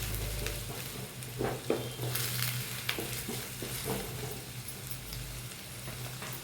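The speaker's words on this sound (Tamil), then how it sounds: "வெங்காயம் சேர்த்து நல்லா வதக்குங்க." Onions for rajma masala sauté and sizzle steadily in a pan, with a few stirring scrapes and clinks over a continuous frying hiss; no voices.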